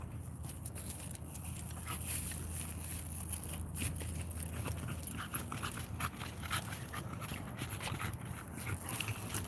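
Dogs waiting for a walk whimper and pant softly and continuously, with faint clicks and jingling over a low background rumble.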